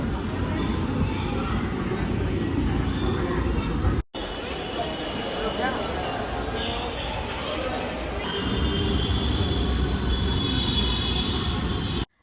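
Riding a crowded Dhaka metro train from Mirpur 12 on a Friday, a continuous rumbling carriage roar with rail hiss and faint wheel squeal, crowd voices murmuring throughout.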